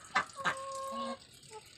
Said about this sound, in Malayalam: ഇതാണ് നമ്മുടെ ഓൾഡ് ജനറേഷൻ കോഴികൾ.